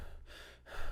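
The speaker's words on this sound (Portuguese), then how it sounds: "A gente fala respiração cachorrinho, que é para dar aquela soltada no pulmão" Rapid panting breathing exercise in a voice-acting class, short quick breaths close to the mic in a brief burst with a pause between, no speech.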